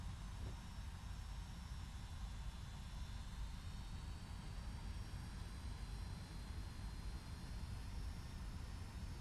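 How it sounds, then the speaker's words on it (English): A FedEx Boeing 757 in the X-Plane 12 simulator spools up for takeoff, a steady, broad engine roar with a faint rising whine holding throughout. "Here comes takeoff."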